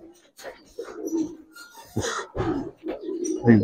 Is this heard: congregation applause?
no